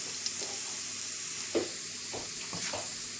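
Garlic and ginger frying in coconut oil for a Kerala fish curry, a soft steady sizzle with a few faint stirring scrapes and clicks, close and fairly quiet.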